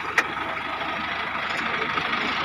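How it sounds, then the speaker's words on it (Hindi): A Mahindra tractor engine runs steadily while sowing wheat with a seed and fertilizer drill in a village field, a constant mid-distance drone with a brief click near the start. "उसके टंकी में खाद बिया डाले और ट्रैक्टर ने अपना काम शुरू किया"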